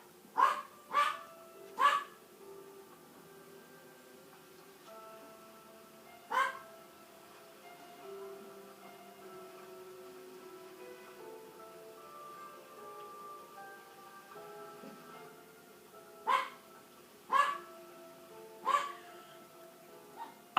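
A dog barks repeatedly in the near background, sharp barks coming in short bursts of two or three with long pauses between, over a quiet room hum and no talking.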